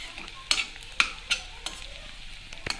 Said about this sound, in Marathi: पुन्हा एकदा आपण कांदा परतवून घेऊया त्यात मिरची सकट